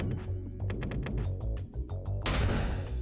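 Bombs exploding in the Peglin video game, a rapid run of sharp popping blasts ending in a big loud crash.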